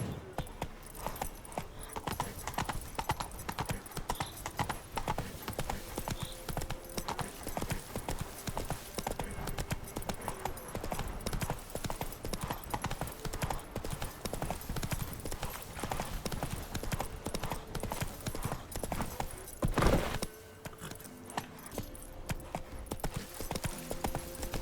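Roach the horse from The Witcher 3 gallops in a video game, rapid rhythmic hoofbeats pounding continuously with faint jangling tack, a brief louder thump midway, with no talking.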